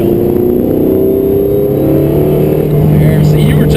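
A million-dollar Spyder sports car pulls hard under a burst of throttle, its engine note loud and close and climbing steadily in pitch over a few seconds, filling the cabin.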